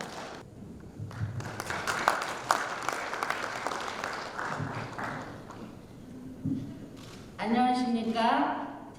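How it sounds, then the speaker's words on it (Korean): An audience at an arts convention ceremony applauds with scattered, moderately loud clapping that thins out, followed by a voice beginning to speak. "박수로 환영해 주시기 바랍니다."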